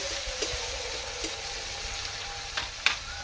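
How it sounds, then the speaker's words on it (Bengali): Chopped onion and tomato frying in a pan, a continuous moderate sizzle with a few soft stirring scrapes and clicks, no voices. "টমেটো দিয়ে দিচ্ছি নাড়তে থাকবে একটু"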